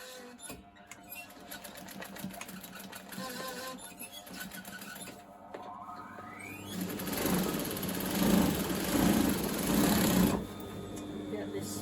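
A sewing machine stitches through skirt fabric, a steady rapid mechanical whir that grows louder and busier in the second half, with a person talking over parts of it.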